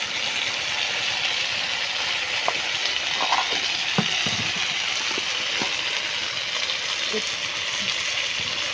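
Spice paste with salt and turmeric frying in a pan for a fish curry, a continuous hiss of sizzling oil with scattered stirring knocks and spoon clicks throughout.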